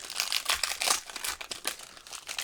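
Crinkly plastic wrapping on a pack of trading cards crackles and tears in quick bursts as it is pulled open up close, with no talking.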